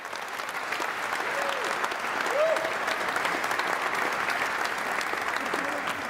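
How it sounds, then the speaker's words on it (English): An audience at a sustainable chef cooking competition grand final applauds the finalists with sustained, even clapping, with faint voices underneath. "Please give them a round of applause."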